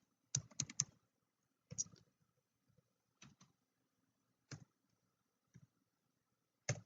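Keystrokes on a computer keyboard entering a reference number in accounting software, arriving in short clustered bursts separated by pauses, fairly close and crisp, with no talking.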